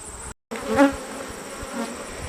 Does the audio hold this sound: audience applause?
no